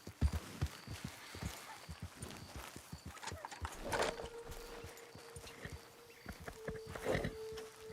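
Horse hooves clip-clop in a video game near a camp with a hitching post, a close, irregular run of hoof strikes, a few faint game sounds mixed in, and no talking.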